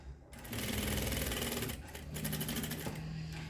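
A sewing machine runs fast and steady, stitching a seam on tailored shorts; the rapid needle chatter is close and loud and carries on without pause.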